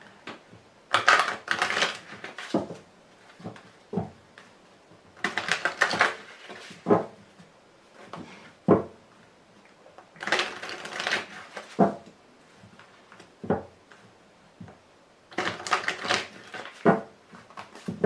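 A deck of tarot cards being shuffled and gathered on a table, with bursts of riffling and tapping in several rounds separated by brief pauses, close and clear with no talking.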